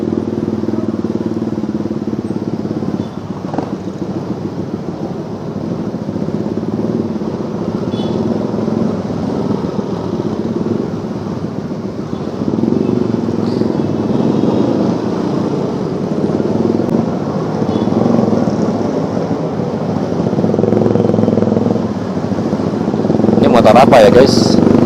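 A Honda motorcycle engine drones steadily on a busy road during a morning commute between Bekasi and Jakarta, with a loud continuous rumble that swells toward the end, heard under ongoing talk.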